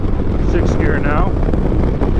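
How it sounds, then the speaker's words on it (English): Steady roaring wind buffets a motorcycle helmet at about 100 mph on a 2023 Triumph Rocket 3 GT fitted with a Madstad windshield, loud and constant, with a voice speaking faintly under it. "I hear wind in my helmet"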